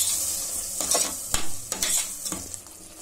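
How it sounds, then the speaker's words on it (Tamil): Tomato and ground masala paste sauté in a pan for chickpea kurma, a close hissing sizzle broken by several sharp stirring scrapes and spoon knocks. "நான் இப்ப இதுல அரைச்ச விழுது வந்து சேர்த்துக்க போறேன். சேர்த்து இதை நல்லா கொஞ்சம் வதக்கிக்கணும்."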